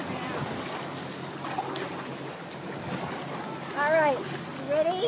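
Ocean waves wash in a steady, broad roar at a beach, mixed with wind buffeting the microphone, while a voice briefly speaks near the end.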